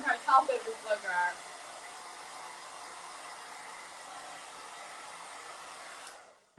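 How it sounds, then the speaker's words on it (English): A blow dryer roars steadily nearby as a constant airy whoosh, with a voice speaking briefly over it at the start, before the motor cuts off near the end. "I'm not going to try to talk over this blow dryer."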